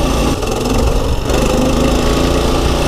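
A free pit bike's small engine runs steadily and loudly up close, a buzzing motor note held for the whole stretch with a brief dip partway through, no voices over it.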